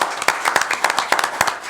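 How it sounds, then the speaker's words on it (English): A small crowd at a county commission meeting applauds a Hall of Fame induction: brisk, close, steady clapping from several people, continuing through the whole moment. "I believe that would deserve a round of applause"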